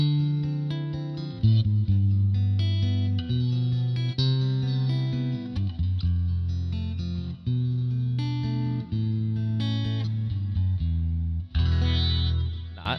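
A clean electric guitar tone from a Fender Tone Master Pro plays a 2-5-1 progression in C, with shimmering chorus-like chords ringing in sustained strums, alone and fairly loud.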